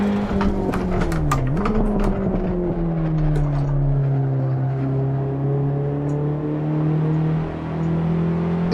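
Race car engine in the Assetto Corsa video game, on a novice career-series race with a nicely balanced car: a steady, loud engine drone that dips as the car brakes early, then holds a sustained mid-revs hum through the corner.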